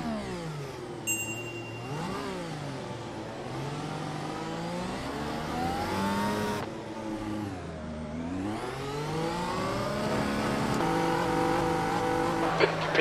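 A race car in the iRacing VR sim at Spa accelerates hard from the start, its engine note rising and falling through repeated gear changes, loud and continuous with faint tire squeal.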